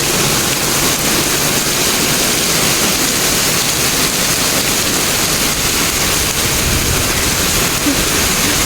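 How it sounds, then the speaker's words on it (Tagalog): A downpour of heavy rain in Singapore, heard as a constant, loud, broadband roar with no breaks, close and even from start to finish, no voices over it. "Ang lakas ng ulan."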